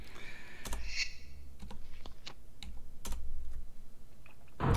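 A repeating mechanical clank echoes through the opera house level of Tomb Raider 2, sharp metallic clicks recurring at irregular intervals over a low ambient rumble, with no talking.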